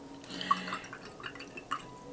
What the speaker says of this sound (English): Put a little bit of water in there with it.